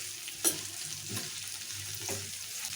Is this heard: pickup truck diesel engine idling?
no